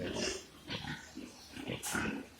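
Pigs grunt and snort on a pig farm in Punjab, India, with exhaust fans running; several short, rough grunts come in bursts at moderate distance, fairly faint, over a steady background hum.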